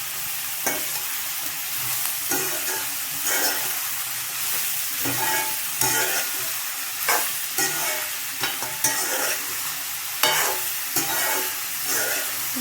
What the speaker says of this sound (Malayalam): ഉപ്പിട്ടിട്ട് നല്ലപോലെ ഇളക്കാം